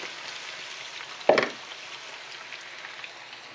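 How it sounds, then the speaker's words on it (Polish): Steady sizzling of meat frying in a pan, with a brief louder crackle as something shifts, then the even hiss continues. "jak mięsko się smaży"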